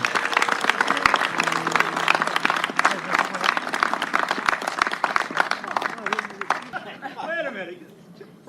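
An audience applauds the mayor at a Whittier city council campaign event, with dense clapping filling most of the clip. Voices talk over it, and the clapping fades as speech takes over near the end.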